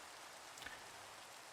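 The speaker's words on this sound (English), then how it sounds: "it's raining here on the server" Rain falls on a Minecraft server world as a faint, even hiss, distant and unbroken with no voices.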